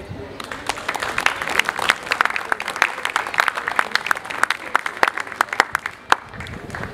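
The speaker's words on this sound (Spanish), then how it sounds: "el público que está aquí presente, tiene que dar con un fuerte aplauso." A live audience at a literary tribute to a poet, held at the 2018 book fair, breaks into sustained, loud applause with dense, steady clapping and a little crowd noise.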